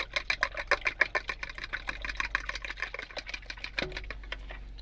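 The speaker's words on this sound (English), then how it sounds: "We got 2 eggs, and we're just gonna whisk these together" Two eggs whisked together in a bowl while camping solo in a truck in winter, a quiet, rapid run of clicking, tapping strokes at a fast, steady rhythm, close by.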